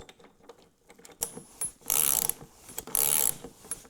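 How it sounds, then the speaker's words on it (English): A wrench turning a nut that is taped to it onto a bolt while mounting off-road lights on an ATV gives quiet clicks and ratcheting, then two loud metallic scraping bursts close by, with no talk. "I've just got the nut taped to my wrench here and I can just stick this in from behind."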